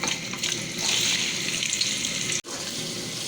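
Onions fry in hot oil in a pot, giving a steady close hiss of sizzling that swells briefly, then cuts out for an instant before resuming.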